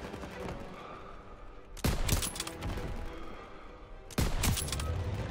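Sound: gunfire in a WWII video game battle

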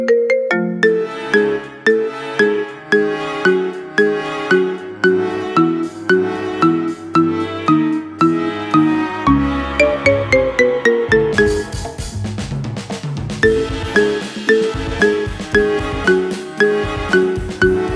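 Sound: Mad Men theme marimba remix ringtone

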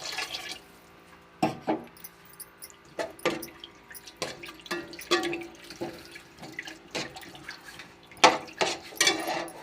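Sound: pouring water into cooking pot

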